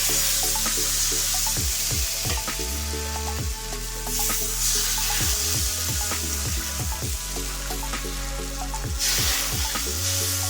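Rava dosa batter poured across a well-heated pan gives a steady, loud sizzle throughout, with a run of quick scraping strokes and bubbling crackles over a low constant hum.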